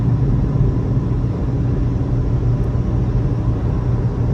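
Steady, loud low rumble inside a car cruising in fifth gear at around 70 decibels, continuous and even throughout with no voices.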